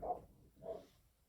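Two muffled, distant dog barks come about half a second apart against a quiet background.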